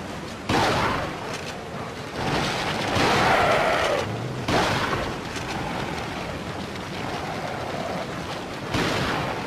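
Several loud, sharp gunshots from the video game Resident Evil 4 fire at irregular intervals amid a dense, noisy backdrop.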